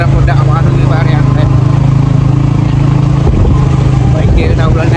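A motorcycle rides a rough, potholed forest road toward Demala Ella waterfall in Sri Lanka. Its engine drones loud and close without a break, and a voice talks over it.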